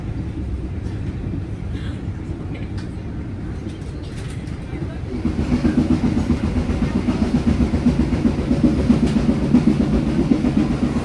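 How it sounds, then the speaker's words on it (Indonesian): A Tegal Bahari passenger train pulls into Bekasi station, its low rumble and steady clickety-clack of wheels on rail joints swelling louder midway through, with faint bird calls and station noise in the background. "ini kereta api Tegalbahari baru sampai di stasiun Bekasi jam 8:15"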